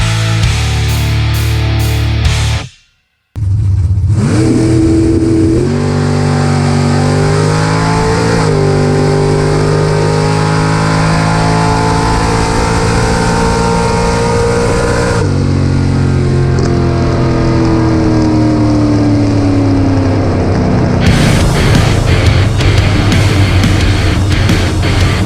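Classic 1968 or 1969 Camaro drag racing, its loud engine roaring and revving hard as it launches. Rising gear pitch sweeps continue through a long, sustained run, with a brief silent gap near the start.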